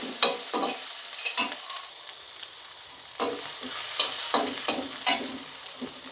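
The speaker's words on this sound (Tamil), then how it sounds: "நம்ம கட் பண்ணி வச்சுருக்கிற பீன்ஸ் சேர்த்துக்கலாம். அதையும் சேர்த்து ஒரு வதக்கி விடுங்க." Chopped beans sauté with softened onions in a pan. A spatula stirs and scrapes in frequent, uneven strokes over a soft, continuous sizzle, close and clear, with no voices.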